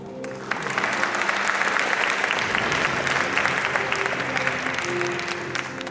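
Dense, sustained applause from a large audience at an international harbor-city forum closing, the clapping loud and even throughout without any speech.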